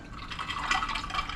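Water trickles and splashes as it is poured into a VEVOR countertop ice maker, a short, faint, gurgling fill lasting just over a second with no talking.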